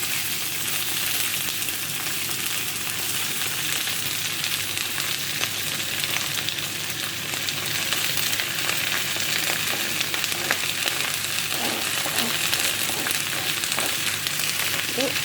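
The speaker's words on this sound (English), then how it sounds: "I'm going to give it a stir." Loud, continuous sizzling of food with ginger frying in a pan, with occasional scraping and stirring sounds mixed into the crackle.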